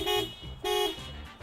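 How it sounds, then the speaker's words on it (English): Two short, close honks from a 2019 Toyota RAV4 SUV horn, each a bright tonal blare separated by a brief gap. "the actual sound of the RAV4's horn is this."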